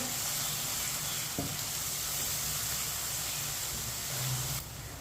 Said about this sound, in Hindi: लहसुन को मिक्स करके इसे 2 मिनट के लिए पका लेंगे।